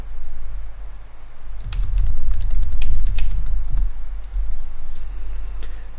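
Typing on a computer keyboard, a quick run of close, crisp key clicks in an irregular burst, followed by a few scattered taps over a low steady hum, no talk.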